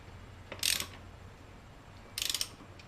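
A ratchet tightens bolts on a ZZP cold air intake fitted to a Chevrolet Sonic 1.4L, giving two short, close bursts of rapid clicking separated by a quiet pause.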